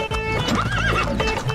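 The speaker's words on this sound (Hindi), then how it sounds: "फलों की टोकरियां और खाने के पतीलों को घोड़ा गाड़ी में लेकर निकल पड़े। घोड़ा भागने लगा तो गेंदा डर गया।" In a Hindi cartoon, a horse pulling a cart lets out a loud, close neigh over quick clip-clopping hooves, the whinny rising and wavering for about a second.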